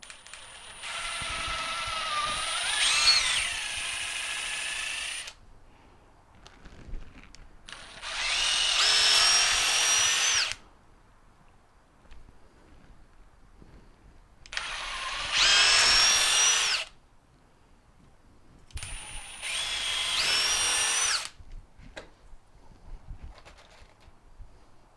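A power drill sinking bolts into the corners of a DIY wooden flatbed frame on a Ford Ranger pickup, heard as four loud whirring bursts of a few seconds each, separated by quiet pauses.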